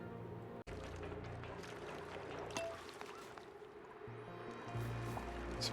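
Water pours and gurgles in the survival game Demolior Survivors, a continuous liquid rush with drips and bubbling, after a brief cut near the start and with a louder swell toward the end.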